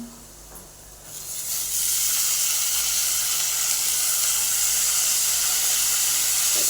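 A coriander vadi mixture sautés in a pan, hissing and sizzling steadily. The frying grows louder after the first second and then stays constant.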